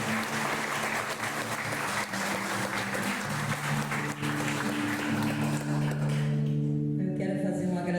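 A crowd claps in applause at a family celebration honoring Santa Luzia, sustained dense clapping that carries on steadily, with voices and a faint tonal hum beneath before it thins out near the end.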